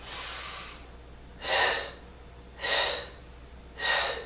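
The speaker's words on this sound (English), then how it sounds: "Exhale, exhale, exhale." Three strong, breathy exhales during a Pilates stretch, close and evenly spaced about a second apart, after a softer breath at the start.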